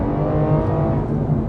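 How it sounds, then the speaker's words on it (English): Manual V12 of a 2008 Aston Martin DBS breathing through a sport-cat exhaust, a loud, steady, deep multi-layered drone heard up close from the cabin under load. "It sounds slightly different to the standard exhaust system, and it really does flow a lot more freely"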